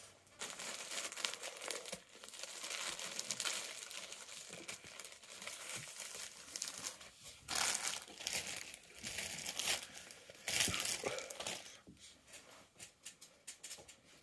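Plastic packaging around a new blanket is torn open and handled at close range, with steady crinkling and rustling and a few louder bursts of crackle.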